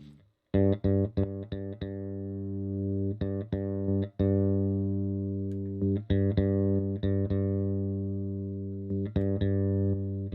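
Repeated plucked bass guitar notes through a Boss compressor pedal, with a smooth, even sustain, played alone in a simple pattern, clean and close.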